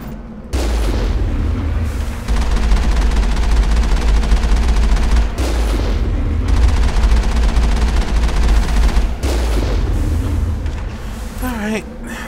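Loud, sustained gunfire and booming rocket blasts in the video game Mass Effect 1, with dense rapid shots and explosions running nearly continuously while a voice talks over the combat.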